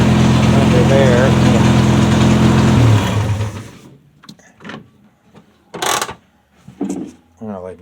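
A 1973 Triumph Spitfire 1500 with a rebuilt engine idles with a steady mechanical hum for about three seconds, then is switched off and winds down to silence, followed by scattered speech and small clicks.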